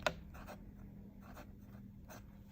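A Leonardo Corsani fountain pen with a wet, bouncy fine nib writes on paper, giving soft, steady scratchy strokes in short bursts at close range with no talking.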